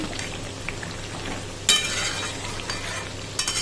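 Chicken kosha, a meat curry, being stirred in a pan: a continuous close sizzle with scraping stirs and a couple of sharper spoon-on-pan clinks, no talk.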